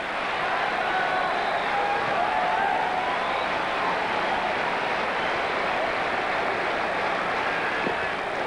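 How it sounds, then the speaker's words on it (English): Steady, dense crowd roar fills a baseball stadium at Fenway Park on opening day as fans anticipate a strikeout, a continuous loud wash of voices with no break throughout. "And the crowd anticipates the moment."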